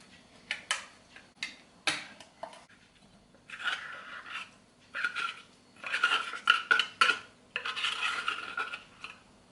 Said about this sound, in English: In a separate bowl, I'm going to add my tuna.